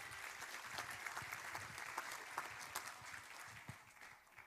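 An audience at a recognition ceremony claps steadily for several seconds. The applause sounds distant and fairly faint, with scattered sharp individual claps.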